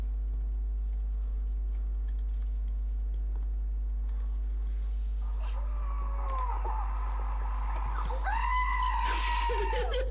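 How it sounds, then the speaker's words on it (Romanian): A goat bleats in a video playing in the background during a League of Legends session: wavering, high cries come in during the second half over a loud, constant low hum and scattered keyboard clicks. "am lăsat video-ul ăla să cânte. Să cânte capra"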